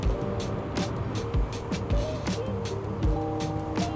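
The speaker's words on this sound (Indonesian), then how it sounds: "Truk mulai masuk kota jam segini." Trucks and other vehicles rumble past on a city street in Denpasar at night, a steady low engine drone with periodic thuds and passing swells, heard from nearby with a voice occasionally talking.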